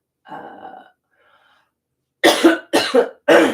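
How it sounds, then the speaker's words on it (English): A brief throaty sound is followed by a pause, then three harsh, loud coughs in quick succession, close to the listener. "Coughing, exhausted."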